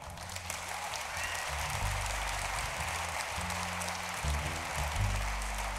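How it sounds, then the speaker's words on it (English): An audience at a tech keynote applauds with a continuous, fairly faint wash of clapping, while low sustained bass notes play underneath throughout. "Listen to them clapping"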